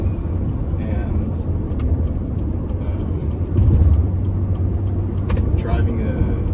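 A 1995 Mazda MX-6 with 197 on the clock drives along, its engine and road noise a steady low rumble beneath a person talking throughout, with a brief surge in loudness midway.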